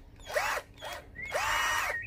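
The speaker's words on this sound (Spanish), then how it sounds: "es la primera vez que uso el taladro" Cordless drill drilling a hole in a DIY project, three short bursts of whining motor with stops between them, moderately close and fairly quiet, with no talking.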